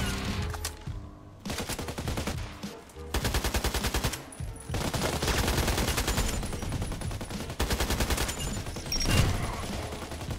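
Rapid bursts of automatic gunfire rattle loudly in repeated volleys, with short pauses between them, from the online shooter game Contract Wars.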